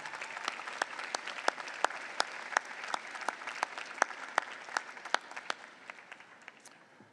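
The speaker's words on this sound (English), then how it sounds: "Give him a round of applause." A graduation commencement audience claps steadily, with a fairly distant wash of applause punctuated by sharp individual claps, gradually thinning toward the end.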